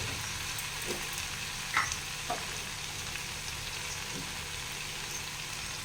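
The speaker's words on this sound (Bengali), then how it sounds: "এবার তো আমি জল দিয়ে দিচ্ছি" Curry sizzles and bubbles in a pan as water is added, heard as an even, close hiss with a few faint clinks and pops scattered through it.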